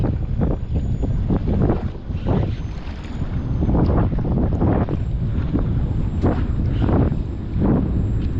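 Strong stormy wind buffets the microphone while kayak fishing for tarpon and sharks at sea, loud gusting rumbles surging and easing in bursts with splashing water, no voices.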